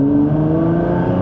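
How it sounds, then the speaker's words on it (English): A highly modified Nissan GTR's engine hums steadily up close, with layered tones and a faint whirring rise that fits the turbos spooling, heard alone with no talk. "you can hear the turbos spooling a little"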